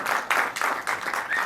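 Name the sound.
audience applause welcoming actors on stage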